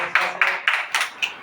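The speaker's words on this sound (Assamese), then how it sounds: "হাত চাপৰি বজাই দিয়া" Children clapping together in a classroom, about six quick, evenly spaced claps in close succession, fairly loud and near, with no talking over them.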